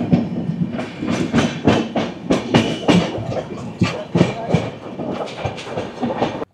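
The New Delhi–Howrah Rajdhani Express runs on rails, heard from inside the train as a loud, rhythmic clickety-clack of wheels over rail joints, repeating steadily throughout with no talk.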